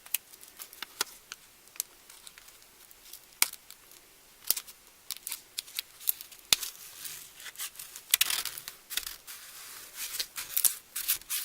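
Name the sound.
peeling the backing off an adhesive sheet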